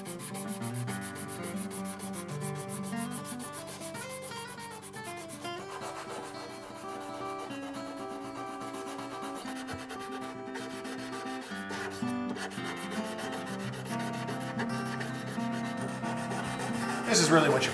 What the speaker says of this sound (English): Easily my least favorite part of guitar work would be sanding frets.